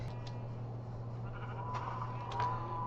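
Sheep bleat a few times on a wool farm in a video game, faint short calls over a steady low hum and ambient game sound.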